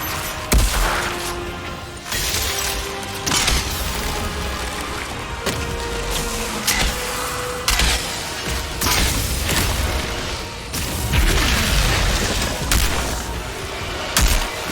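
Rapid gunfire cracks and booms through a stretch of Outriders gameplay, with irregular bursts of shots, splintering impacts and heavy thuds layered over a busy battle soundscape.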